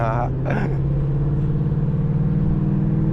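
Ford Mustang engine in manual mode revving loud and steady at high rpm with a rough, throbbing drone, up close, with someone speaking briefly over it at the start.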